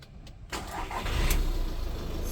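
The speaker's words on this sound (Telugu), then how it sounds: "ఒకసారి మనం ఇంజన్ స్టార్ట్ చేస్తున్నాం చూడండి" A short starter whir, then the engine of a Volkswagen Polo Highline with 59,000 km catches on a single crank and settles into a steady, close rumble.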